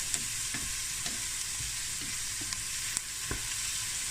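Garlic and onion for arroz negro fry in a hot pan with a steady close sizzle, punctuated by sharp clicks and scrapes of stirring.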